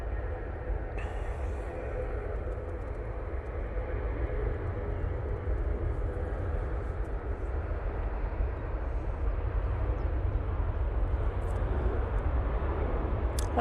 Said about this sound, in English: That Ryanair is off to Barcelona. Using 737-800 for that flight.